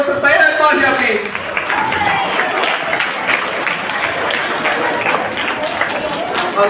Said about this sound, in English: Now let's give a big round of applause to Syed Arman here